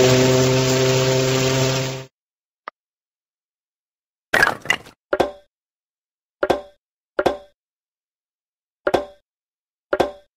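A ship's steam whistle blasts once, loud and sustained for about two seconds, then cuts off, followed by silence and a series of sharp, evenly spaced clicks and knocks.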